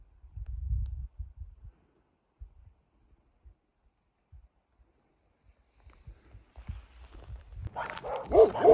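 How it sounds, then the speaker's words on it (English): Sheepdogs at a rural house bark in a short burst at first, then after a quiet gap a louder, closer flurry of barking and noise builds toward the end. "2 dogs back there. 1, 2, 3, 4, 5, 6, 7, 8. And they're all sheepdogs."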